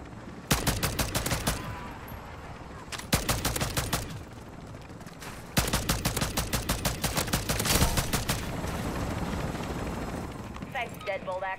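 Bursts of rapid automatic gunfire in a military shooter video game, loud and close, in several sustained volleys separated by short pauses, with game chatter and a whirring helicopter-like noise near the end.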